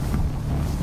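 Strong hurricane wind gusts roar in a dense, steady low rumble that buffets the microphone throughout a brief burst, with no voices.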